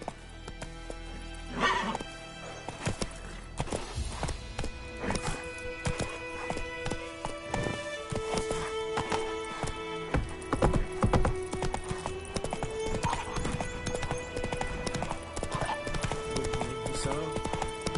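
Roach the horse gallops in The Witcher 3, with rhythmic hoofbeat clip-clops and a whinny over a layered game soundtrack of music and effects, with some voice mixed in.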